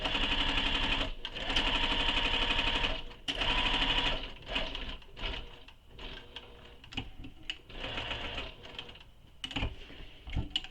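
A sewing machine stitches a quiver sling with fast, steady bursts of running needle noise, pausing briefly between runs as the fabric is adjusted and backstitched, close and clear with no talking.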